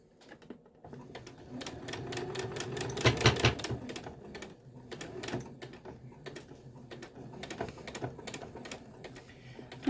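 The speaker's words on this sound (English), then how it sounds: "Sewing those pleats in place now" Sewing machine stitching pleats into a fabric face mask, a rapid mechanical chatter running in bursts across the clip, busiest in the middle, close and moderately loud with no talking.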